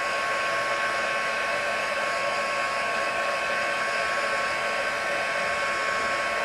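A heat tool blows hot air over Stampin' Up! Heat & Stick Powder sprinkled with glitter. Its loud, even, unbroken whir carries on from start to finish with nothing else heard.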